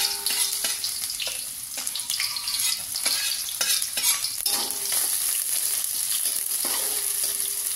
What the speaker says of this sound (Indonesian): sudah panas kita tumis bawang merah